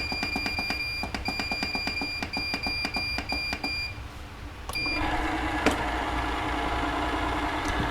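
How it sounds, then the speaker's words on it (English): An ice cream maker's timer beeper sounds in a rapid train of sharp, evenly spaced electronic beeps for about four seconds over a motor hum, then the machine keeps running with a steady louder whir. "the beeper has sounded and it is time"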